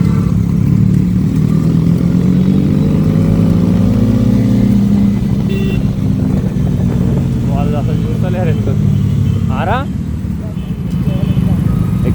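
A motorcycle engine revving through its exhaust outdoors, a loud continuous low rumble with pitch rising and falling, while people talk over it.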